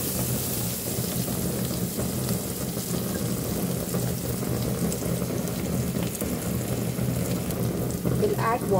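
Water pours into a khichdi pot of masoor dal and spices on the stove, a steady broadband splash and hiss that runs unbroken and close, fairly loud throughout.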